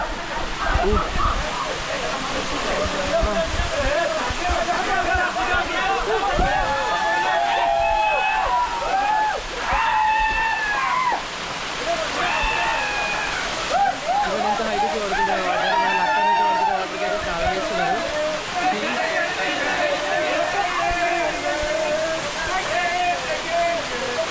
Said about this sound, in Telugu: చూడండి గాయస్, నేనైతే వచ్చాను వాటర్ ఫాల్స్కి.